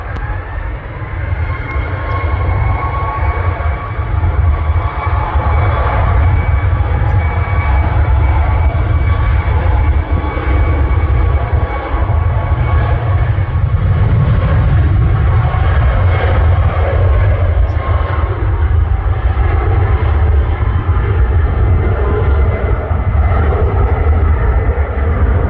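A TUI airliner takes off at Manchester Airport, a loud, sustained jet roar with deep rumble that stays strong and continuous throughout.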